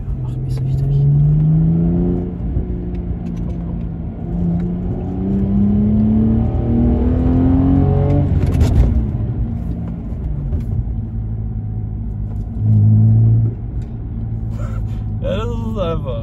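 A BMW 330i with the N52B30 straight-six and a performance rear silencer revs repeatedly, rising and falling in pitch with rev-matched blips, loud and close under a man's speech.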